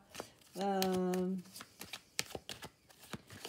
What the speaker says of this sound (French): On va essayer de tirer d'autres cartes pour voir ce que ça nous dit là.